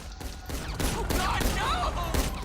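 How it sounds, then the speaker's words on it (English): Pistol shots fired in the GTA 5 video game, several sharp cracks in quick succession over a steady bed of game background noise, with some speech-like sound mixed in. "Let's try out the new pistol on him again."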